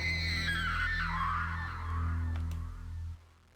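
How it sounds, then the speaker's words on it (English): A woman's high, drawn-out scream from a DOS-era video game rises and wavers for about three seconds over a steady low electronic hum, then cuts off abruptly. "We heard the scream and rushed in and found Annabella unconscious."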